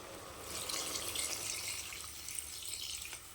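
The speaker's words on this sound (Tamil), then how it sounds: "தண்ணி சேர்த்துக்கலாம்" Water pours steadily into a pot of mutton curry as it cooks, a close, continuous splashing and trickling stream lasting a few seconds with no voices.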